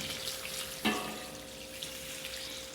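Water pours into a pot of chicken sopas soup, a steady rushing splash that runs right through with a brief louder burst near the start, no talk.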